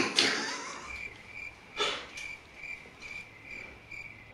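Repeating cricket chirps pulse in a steady rhythm, fairly faint and close, dropped in as a silence gag during an SR20DET engine removal in a garage, with a couple of brief rustling bumps between the chirps.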